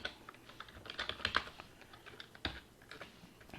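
Quiet, close computer keyboard typing while Python code is entered, a steady patter of soft key clicks with a few sharper taps.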